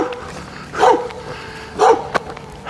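Dogs bark twice, about a second apart, two sharp, fairly near woofs over quiet outdoor background.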